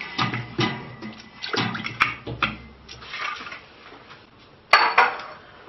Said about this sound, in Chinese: 往汤锅里面放入我们焯好水的骨头，牛骨和鸡架都放进去